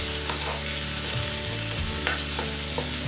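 Square-cut cucumber cubes are stirred in a hot pan for a cucumber sabzi, loud close sizzling with scraping spatula strokes throughout the short stretch, no talking.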